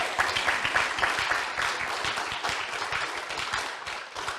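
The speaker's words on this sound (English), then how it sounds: "can we please give a round of applause for them too?" An audience at an awards event claps for two laureates in a sustained, even round of applause that stays fairly distant and moderate in level throughout, with no talking over it.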